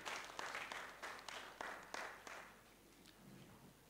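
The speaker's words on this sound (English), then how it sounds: "Can we give Mr. Mustafa Daramullah a round of applause once again?" An event audience gives a round of applause, quiet, somewhat distant clapping in uneven bursts that gradually thins and fades, with faint voices murmuring underneath near the end.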